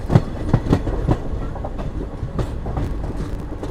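Dharmavaram Express hauled by a WAP4 electric locomotive rolls past at a steady clip, with rhythmic clickety-clack of wheels over rail joints under a broad rumble, fairly close.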